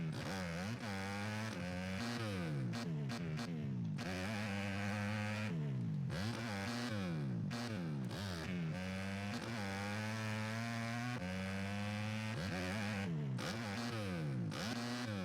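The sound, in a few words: pit bike engine in video game MX vs ATV Legends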